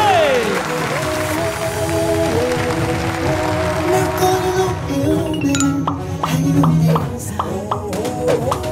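A crowd claps loudly and steadily, the applause mixing with ringing tones and music.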